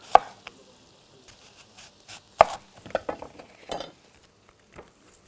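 Onion being sliced into rings for salad, scattered sharp knife strikes on a board, a few louder cuts spaced irregularly with quiet gaps between, close and alone.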